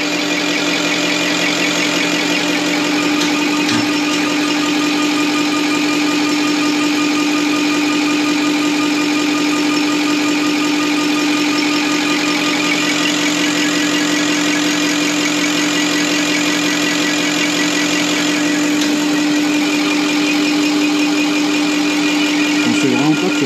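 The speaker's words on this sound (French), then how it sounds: "On dirait vraiment un moteur V8 qui tourne là." A large Deutz V8 diesel engine idles steadily and loudly throughout, with a constant low rumble and a faint mechanical knock, close by.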